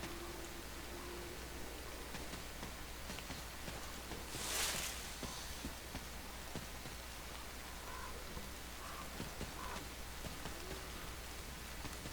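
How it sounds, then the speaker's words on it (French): Steady rain falls in the video game Metro Exodus, a soft continuous hiss of drops on surfaces with scattered louder patters and one brief brighter splash midway, no voices. "La pluie, c'est vrai, je me souviens pas d'avoir vu ça de la pluie."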